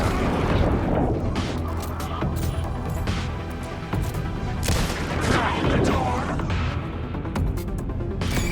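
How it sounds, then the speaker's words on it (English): A grenade blast and gunfire in the action game Tim(e) Breaker bring repeated booms and sharp shots one after another, loud and dense throughout, with speech faintly mixed in. "use the grenade now"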